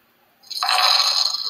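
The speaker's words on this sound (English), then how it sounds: "That was the sound of a Cash App donation" A Cash App donation alert sounds as a short, bright electronic chime that starts after a moment of quiet and rings steadily for about a second, clear and alone.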